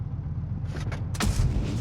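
A heavy tank cannon fires in World of Tanks Blitz: one sharp blast followed by a deep rumble over a steady engine drone.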